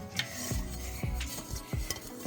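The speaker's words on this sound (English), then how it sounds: "One frying pan goes right in here." A frying pan being stowed in an RV kitchen cabinet, with several sharp metallic clanks and knocks of cookware against the cabinet, spaced about half a second apart, close up and fairly loud.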